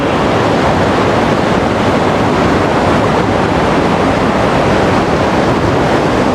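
Fierce river water rushes past a deep pool, a loud, unbroken roar heard up close, with wind noise mixed in and no break throughout.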